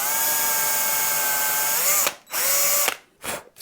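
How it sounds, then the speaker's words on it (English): A power drill fitted with a long series bit bores into a bass guitar body. The motor whines loudly and steadily, drops in pitch, then stops and restarts in short bursts. "Let's drill in a little bit."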